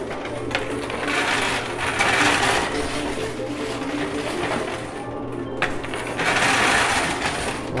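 Coin pusher arcade machine shoving a wall of poker chips: a continuous loud mechanical clatter and hum from the pusher, with swells of sliding, clinking chips and a few sharp clicks, no voices.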